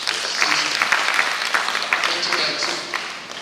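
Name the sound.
applause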